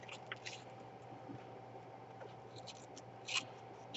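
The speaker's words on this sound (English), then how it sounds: "So I'm just going to go ahead and cut these corners like thusly." Scissors snip through the corners of a paper guest check tag in a few faint, close cuts over a low steady hum.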